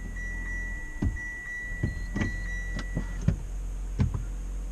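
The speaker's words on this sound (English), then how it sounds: "Turn the car back on." Inside a plug-in hybrid car as it is switched back on: a faint steady electronic tone runs beneath scattered soft clicks and thumps from the cabin, quiet and close, with no talking.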